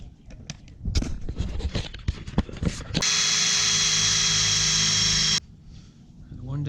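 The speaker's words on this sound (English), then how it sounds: "let's drill these." A cordless drill bores through metal brackets in a workshop, a steady high whir lasting a couple of seconds, close and loud, preceded by clattering handling noises and talk.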